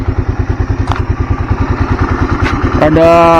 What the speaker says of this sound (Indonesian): Biasa ketengnya yang untuk motor ini awal-awal start itu bunyinya keras ketengnya.